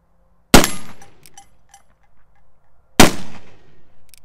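Two sharp, loud gunshots from an engraved 1851 Navy .44 black-powder revolver, fired outdoors at a target about 15 yards away, spaced about two and a half seconds apart, each with a decaying echo.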